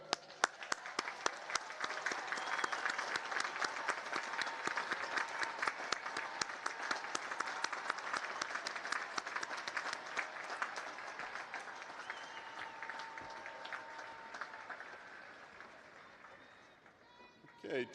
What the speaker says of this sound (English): face your families, and give them a round of applause